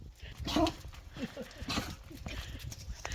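Small dog coughing and snuffling in short rough bursts outdoors on a walk, close and fairly faint, with a few irregular hacking sounds among light handling noise.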